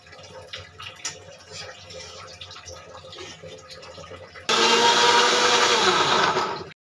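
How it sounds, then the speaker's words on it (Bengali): Quiet kitchen rustling and taps, then a mixer grinder blending a spice paste with coriander powder whirs loudly for a couple of seconds before cutting off abruptly. "এবারে ভালো করে মিক্সচারে ভালো করে ঘেটে নেব"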